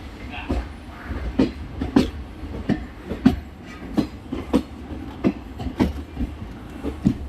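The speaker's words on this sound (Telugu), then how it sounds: "ఈ ట్రైన్ గూడ్స్ రైలు" A goods train hauled by a WDG 4 diesel locomotive rolls past near Secunderabad, its wheels knocking in a steady clickety-clack rhythm over rail joints under a continuous low rumble.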